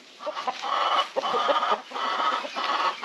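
About fifty chickens cluck steadily in a busy, overlapping chorus around a mobile coop, close by and fairly loud, with no voices.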